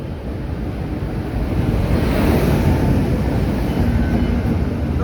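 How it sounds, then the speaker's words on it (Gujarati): The Yognagari Superfast Express pulls into a station, a steady, loud, broad rumble that swells slightly and holds for several seconds, with no voices. "આવી ગઈ છે ગાઈસ અમારી ગાડી યોગનગરી સુપરફાસ્ટ એક્સપ્રેસ"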